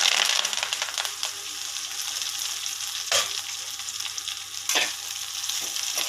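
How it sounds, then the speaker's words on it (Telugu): Washed, dried curry leaves fry in a pan for a curry-leaf spice powder, giving a continuous close, crackling sizzle broken by two brief scraping stirs. "పచ్చి వాసన పోయే వరకు ఫ్రై చేసుకోవాలండి"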